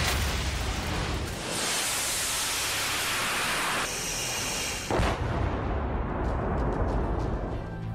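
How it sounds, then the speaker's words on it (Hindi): Russian army artillery cannon firing in a war zone, a dense, roaring wall of noise that stays loud throughout, with one sharp, heavy blast about two-thirds of the way through and no voices. "उसकी तोप आग उगल रही है।"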